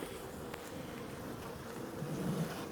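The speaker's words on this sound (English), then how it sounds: "Look here, the old bee was trapped in the spider web." A bee caught in a spider web buzzes steadily and close by, a continuous insect drone that swells slightly toward the end, with no voices present.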